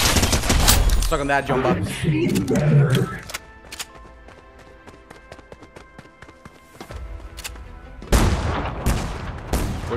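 Gunfire in the Fortnite video game comes as a dense burst of rapid shots, then sparse single pops and clicks, then loud bursts return, while a player shouts over the action.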